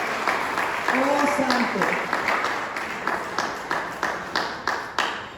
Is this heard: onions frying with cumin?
no